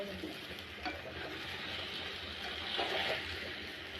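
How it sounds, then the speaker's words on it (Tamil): Taro root fries with masala in a pan, a soft, fairly faint sizzle with a few stirring scrapes that rise slightly toward the end, no voices. "இப்போ அது கூட சேப்பங்கிழங்கு போட்டு நல்லா ஃப்ரை பண்ணிக்கலாம்."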